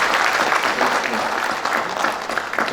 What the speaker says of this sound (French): Donc, je vous demande de l'applaudir